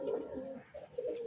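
Pigeons gathered at a water dish after eating grain give a few soft, low coos in a brief, close burst.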